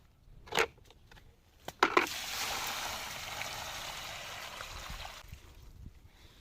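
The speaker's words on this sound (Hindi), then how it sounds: "जड़ों में मैं दे देती हूँ इसके पानी।" Water poured from a bucket onto the roots of an orchard tree, a steady splashing gush for several seconds after a few knocks, then stopping.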